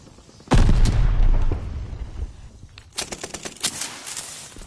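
A sticky bomb detonating in a Call of Duty game: one loud, close, booming blast that rumbles and fades, followed by a rapid burst of gunfire.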